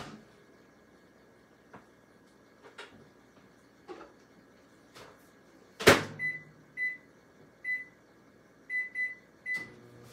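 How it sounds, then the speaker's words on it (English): Microwave oven cooking pasta in an Epicure multipurpose steamer, a faint low hum broken by soft clicks, one sharp loud thump midway, then a series of short bright beeps. "And then into the microwave for 8 to 10 minutes"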